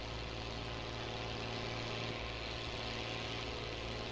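A truck engine in Farming Simulator hauling a 30-metre bitrain loaded with peanuts, a loud continuous low drone that holds steady and heavy throughout.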